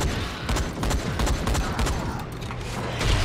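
Dense, continuous gunfire from shotgun blasts in the zombie video game Dying Light, the shots packed together in a loud, steady barrage with no clear gaps between them.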